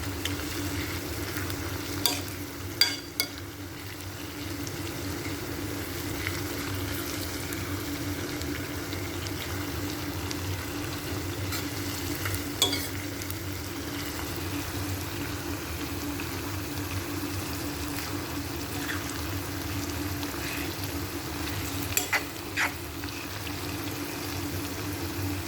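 Shallots, ginger, garlic and green chilli sauté with salt for a Kerala-style crab roast, giving a steady low sizzle with occasional spoon scrapes and clinks against the pan, close and unaccompanied by talk.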